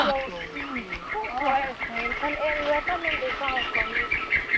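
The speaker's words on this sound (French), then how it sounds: "Mais c'est chant d'oiseaux." Birdsong fills a quiet outdoor setting: several birds chirp and warble in overlapping phrases, steady and moderately close, for the whole stretch with no talking.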